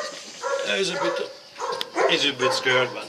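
A black puppy whimpers and yips in short high whines, mixed with a person speaking over it, the cries growing louder and more frequent toward the end.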